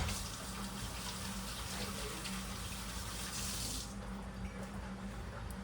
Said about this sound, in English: Go rinse my hands real quick so I'm not touching,